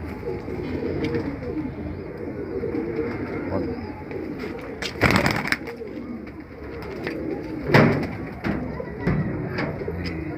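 Pigeons kept as a pair coo steadily at close range, a low continuous burbling with a few louder thumps and rustles, while someone speaks briefly over them.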